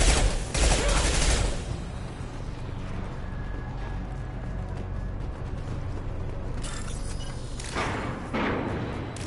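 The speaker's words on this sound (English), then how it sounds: "Firing an impact shot." Impact shot gunfire in the video game Mass Effect 2 opens with a loud, heavy burst of shots, gives way to a sustained mechanical rumble, then ends with another forceful blast.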